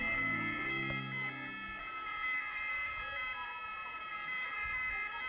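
An ambulance siren wails in a traffic jam, its rising and falling tone loud at first and then continuing steadily over the hum of idling cars.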